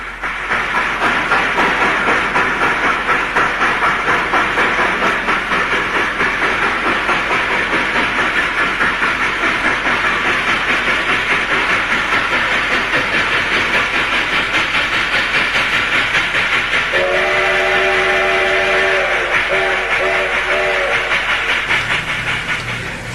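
A U.S.-built steam locomotive with slide valves and link-and-pin couplers runs steadily and loudly close by, its chuffing and rail clatter continuous, with a sustained whistle sounding near the end.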